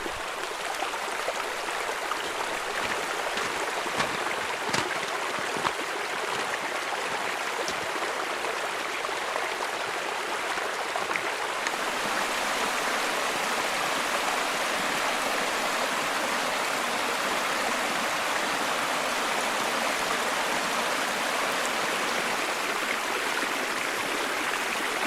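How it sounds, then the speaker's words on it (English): Water pours down a hillside path like a waterfall, a loud, unbroken rushing roar that stays close and steady throughout, with no voices. "The path is basically a waterfall at the moment."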